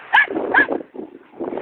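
A small young dog on a beach gives two sharp close yips in quick succession, followed by softer low grumbling and whimpering sounds.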